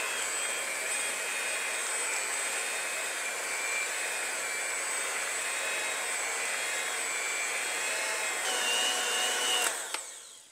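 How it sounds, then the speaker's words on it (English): An electric mixer with a whisk attachment whips an eggnog dip, giving a loud, steady whirring drone that runs unbroken, then cuts off abruptly at the end. "And I'm just going to use the whisk attachment on here."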